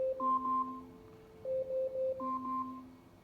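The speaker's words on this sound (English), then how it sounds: "the timer has its own sound" An Amazon Echo Dot 2nd Gen timer chimes a repeating pattern of clear electronic two-tone beeps in short phrases, moderately loud and alone in a quiet room.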